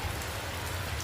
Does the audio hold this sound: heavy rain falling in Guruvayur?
yes